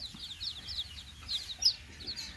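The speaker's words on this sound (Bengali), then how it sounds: "আজকে আল্লাহ রহমতে সত্তরটা বাচ্চা তুলেছি এখানে সবটি দেশি মুরগি সোনালি আছে" Seventy newly arrived native deshi and Sonali chicks on a farm, peeping in faint, rapid, overlapping high calls that rise and fall over a quiet background.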